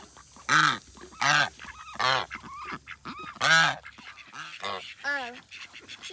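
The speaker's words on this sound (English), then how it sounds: "that little white duck right there, which is a call duck, which is a miniature duck's what it is" A little white call duck, a miniature duck breed, gives a run of loud, rasping quacks close by, about six or seven bursts in an uneven rhythm with brief gaps between them.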